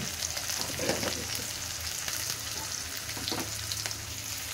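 Ridge gourd and tomatoes fry in a pan for a curry, giving a steady close sizzle with soft crackles and a few faint stirring scrapes, with no voices over it.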